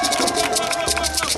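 A large crowd at a public ceremony in Côte d'Ivoire claps and cheers, a loud lively wash of applause with scattered voices mixed in and a steady low hum underneath.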